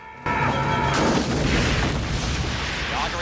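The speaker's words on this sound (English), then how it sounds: "So Powers runs away and sets off a few bombs" Bombs go off in the action film Sudden Death: a heavy boom hits suddenly and rolls into a long, loud, rumbling blast with debris-like crackle that holds steady throughout.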